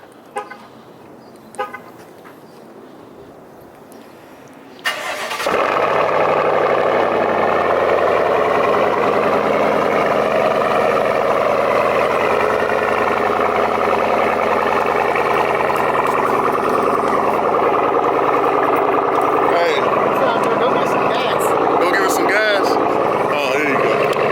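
A 6.2L V8 in a 2019-2025 Chevy Silverado with a dual catback exhaust fires up after a quiet lead-in, settling into a loud, steady, rumbling idle that fills the rest of the clip with faint voices in the background.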